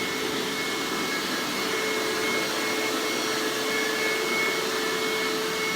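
A vacuum cleaner runs continuously at home during housework, a loud, steady whine with a constant airy roar and no pauses.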